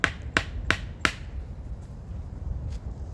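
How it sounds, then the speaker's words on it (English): A hatchet wielded as a hammer knocks against wood four times in an even rhythm, each strike a sharp, close, fairly loud crack. A quieter background hiss and a couple of faint knocks follow. "We can actually use the hatchet as a hammer."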